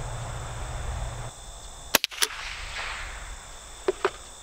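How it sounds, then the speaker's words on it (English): A sharp, close crack from a Stevens 887 tube-fed semi-automatic .22 rifle fired outdoors at a target, followed by a couple of quieter clicks and another pair of faint snaps later. "here's our second shot at the target"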